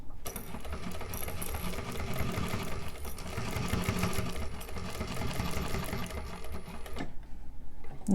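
Sewing machine backstitching a wristlet, a close, steady motorized whir with a rapid needle chatter running for about seven seconds before stopping abruptly.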